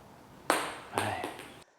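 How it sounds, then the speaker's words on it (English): A table tennis ball brushes across the rubber of a paddle on a spinny serve, giving two or three short, soft swishing contacts close up with no talk. "so a pure brushing sound is like this"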